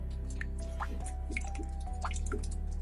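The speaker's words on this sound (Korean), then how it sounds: "뚝뚝 물방울 소리가 좀 더 선명하게 들렸어요" Slow, sparse water drops falling one by one in a quiet, eerie setting for a horror story, each drip distinct and hollow over a steady low hum, with no voices.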